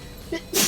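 A single short sneeze bursts out close by, preceded by a brief faint intake of breath.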